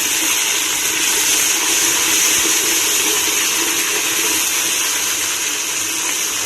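Spice paste loosened with a little water goes into frying onions in a pan for a curry, giving a steady, loud watery hiss and sizzle that holds evenly throughout with no voices.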